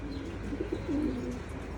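Racing pigeons coo softly in a loft after a training flight home, a few low murmuring coos over steady background hum.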